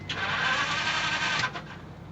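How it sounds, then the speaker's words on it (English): A car starter cranks and whirs for about a second and a half, then cuts off without the engine catching. "What sucks is your engine not starting."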